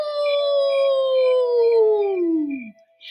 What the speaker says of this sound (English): Coyote saw his handiwork and began to howl